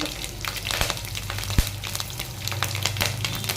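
Green chillies dropped into hot oil with cumin and mustard seeds for a tempering, a steady dense crackle and sizzle with small popping bursts and one sharp clink, close and continuous with no talking.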